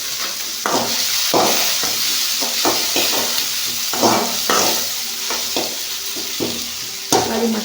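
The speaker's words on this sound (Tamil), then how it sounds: "தக்காளி மசிக்கிற அளவுக்கு நல்லா வதக்கிக்கலாம்." Tomatoes and green chili for a prawn roast are sautéed in a pan. A loud, close sizzle runs under repeated rhythmic scrapes and knocks of a spatula stirring the mash. No one talks.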